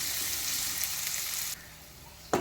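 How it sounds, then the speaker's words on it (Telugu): Chopped onions frying in hot oil, a loud bright hiss of sizzling that drops off sharply partway through, followed by a short burst of frying near the end, close up with no voices. "తరిగి పెట్టుకున్న ఉల్లిపాయలు వేసి బాగా ఫ్రై చేసుకోవాలి బాగా కలుపుకోవాలి ఈ ఉల్లిపాయలు గోల్డెన్ బ్రౌన్ కలర్ వచ్చేంత వరకు వేయించుకోవాలి"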